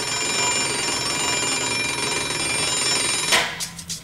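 A beautiful mechanical alarm clock rings loudly with a continuous metallic bell clatter for over three seconds, then stops abruptly, leaving a few faint ringing echoes.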